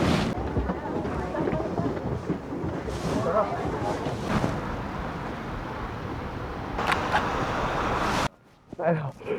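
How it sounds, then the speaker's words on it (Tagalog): Strong winter wind at a ski area in Hokkaido, Japan, buffets and roars loudly across the microphone in constant gusts, then briefly drops away near the end as a voice speaks. "Lakas ng hangin."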